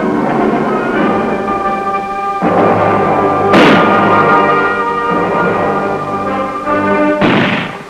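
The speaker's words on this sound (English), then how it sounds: "Mortar units learn to drive into position and set up their weapons rapidly to lay down a barrage of fire." Army Reserve mortar units fire a barrage: several heavy booming blasts, loud and ringing, land at irregular intervals over a steady, dense rumbling background.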